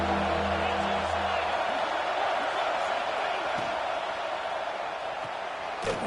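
A football stadium crowd roars in a steady, dense wash of cheering and noise, loud and sustained throughout, with a brief low tone at the start and a sharp bang near the end.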